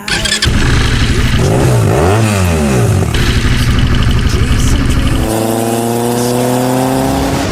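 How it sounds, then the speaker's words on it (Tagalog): A motorcycle engine fires up close by and revs loudly, the pitch swooping up and down before settling into a steady, higher drone. "magpaandar ng motor"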